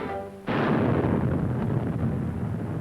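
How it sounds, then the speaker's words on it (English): A cartoon explosion of ignited fuel and air starts with a sudden burst after a brief low tone, then turns into a sustained rumbling roar that slowly fades. "there's always a terrific explosion"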